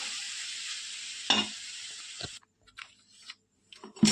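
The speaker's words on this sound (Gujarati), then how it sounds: "સરસ રીતે એને આપણે મિક્સ કરી લઈશું" Chicken noodles being stirred in a hot pan after vinegar goes in, a bright sizzle that cuts off partway, with brief scrapes and knocks of the utensil and then quieter pauses.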